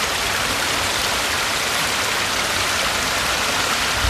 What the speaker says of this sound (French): Une source qui va se jeter dans le ruisseau.